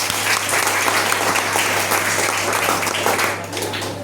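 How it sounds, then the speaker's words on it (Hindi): Loud, dense applause from an audience cheering for seniors at an achievement event in Benipur, a continuous even roar of many hands throughout. "पहले तो हमारे सभी सीनियर के लिए जोरदार ताली होना चाहिए।"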